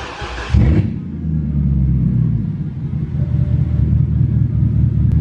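First startup of a straight-piped BMW 650i with a 4.8L V8: the starter catches, the engine fires with a sharp burst, then settles into a loud, deep, rumbling idle close by.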